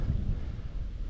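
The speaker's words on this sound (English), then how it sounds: "bit windy. You'll be able to hear that." Wind buffets a microphone outdoors in a back yard, a steady low rumble lasting about a second with no voices.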